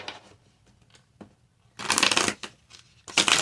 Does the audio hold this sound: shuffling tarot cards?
yes